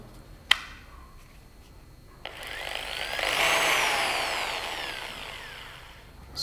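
Bosch GSB 600 RE 13mm corded drill at low speed turning a hex head bolt: a sharp click, then a rising and falling motor whine that swells in the middle and fades, with no talking.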